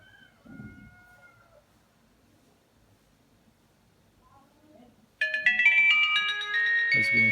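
Mint M3CR phone switching on after its battery is pulled and reinserted: a loud, bright electronic startup melody suddenly begins about five seconds in and carries to the end, following a stretch of faint low noise.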